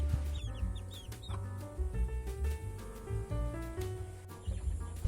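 Black chicks about three to four weeks old and chickens in a backyard cluck and peep softly and continuously, with faint higher chirps scattered through the short, fairly quiet stretch.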